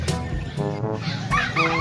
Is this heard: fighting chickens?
yes